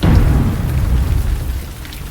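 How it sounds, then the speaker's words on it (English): Heavy rain pours down on a hiking trail on the Camino de Santiago in a thunderstorm with wind, a loud steady wash of rainfall over low rumbling thunder, with no voices. "The rains, wind, lightning, and thunder continued on"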